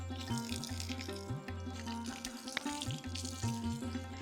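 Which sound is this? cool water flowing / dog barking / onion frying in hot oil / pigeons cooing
cool water flowing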